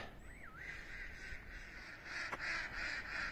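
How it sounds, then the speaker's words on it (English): Geese honking from a distance, a continuous chorus of calls layered together as from a large flock, with a brief higher call near the start. "on this occasion it seems to be a huge flock of geese"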